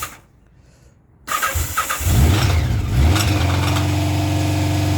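A 1984 Honda CB650SC Nighthawk motorcycle engine catches on a cold start with the choke on. After a second of near-silence there are brief cranking bursts, then it fires into a loud, steady, throbbing idle that holds to the end.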